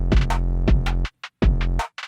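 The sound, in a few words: drum samples: hi-hat, snare and two auxiliary snares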